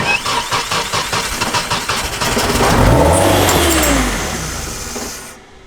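A turbocharged Nissan S14 engine, running with its injectors unplugged, chugs with an uneven pulsing idle, then revs up to a loud, strained peak and winds back down until it cuts out, close and alone.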